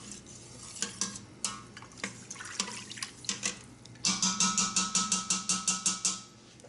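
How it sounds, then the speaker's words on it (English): A plant-based yogurt mixture being stirred in an Instant Pot, with a spoon or whisk knocking and scraping against the metal pot, speeding into a quick, regular run of clinks in the second half. "Give that a mix."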